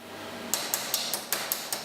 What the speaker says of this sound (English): hammering a bit and brushing it out